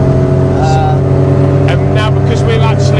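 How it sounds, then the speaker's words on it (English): Modified car with a full straight-through exhaust and Jenvey 52 mm throttle bodies on Omex management drones loudly from inside the cabin while cruising, a steady rumbling engine note with someone talking over it. "As you can hear, full straight through exhaust system."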